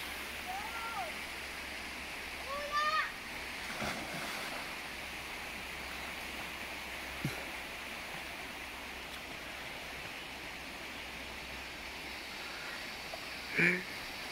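Rushing river water crossed on foot, a steady broadband wash of flowing current with a few brief louder splashes near the start and end, and faint voices under the water noise.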